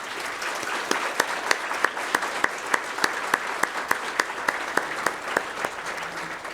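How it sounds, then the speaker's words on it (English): Audience at a library technology conference applauding, a steady round of clapping with sharp individual claps standing out, sustained at even strength throughout without voices. "I'd like to give everyone who's ever helped with Access a huge round of applause."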